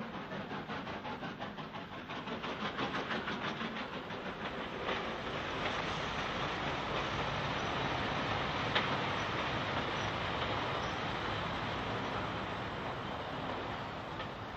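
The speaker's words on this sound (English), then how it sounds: "A down goods in charge of a U1 class 260, number 1904, heads towards the junction." Steam goods train hauled by a U1 class 2-6-0 locomotive heading toward a junction on a 1930s–50s Southern line: a steady rolling roar of wagons with faint rhythmic clatter, building slightly and then holding at moderate distance.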